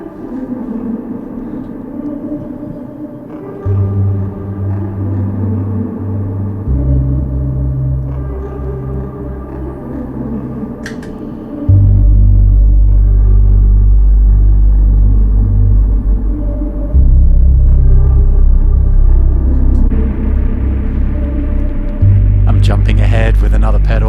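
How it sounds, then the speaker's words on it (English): Low, heavy guitar tones ring out through a compact pedalboard with a very large reverb, each sustained note swelling into a wide, washing tail. The tones shift pitch every few seconds, grow louder midway and end in a scrape of noise. "Give it a little space, or maybe a really big reverb."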